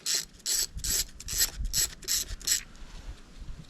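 Socket wrench ratcheting out a coil retaining bolt on a Honda BF75–100 outboard motor, a run of six quick, close clicking ratchet bursts at a steady rhythm that then stops.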